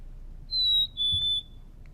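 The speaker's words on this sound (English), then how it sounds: "Black-capped chickadee," Black-capped chickadee song in cedar and pine woods: two clear, pure whistled notes, the first higher and the second slightly lower, moderately loud against a quiet background.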